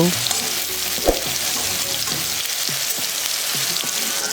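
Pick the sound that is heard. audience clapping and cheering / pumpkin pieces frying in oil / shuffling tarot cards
pumpkin pieces frying in oil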